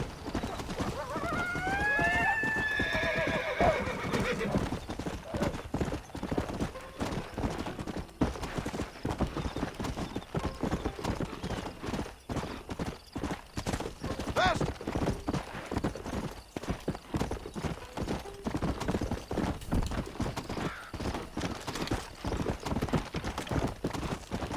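A horse in the Red Dead Redemption game whinnies loudly near the start, then its hooves clip-clop in a brisk, steady rhythm throughout.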